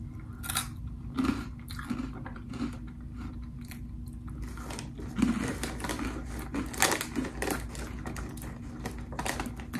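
Crunchy Cheetos-style Canadian cheese snack being chewed close up, steady crisp crunches repeating in an irregular rhythm for several seconds with no talking.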